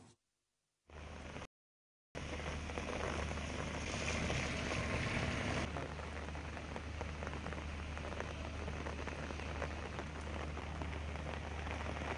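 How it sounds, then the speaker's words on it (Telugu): Heavy rain pours steadily onto surfaces across the twin cities, a dense, continuous hiss with no pauses after a brief silent start. "రాత్రి నుంచి జంట నగరాల్లో జోరుగా వాన కురుస్తుండటంతో రోడ్లన్నీ చెరువుల్ని తలపిస్తూ ఉన్నాయి"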